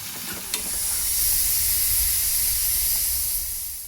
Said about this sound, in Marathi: कढईत कांदा टोमॅटोची फोडणी झाली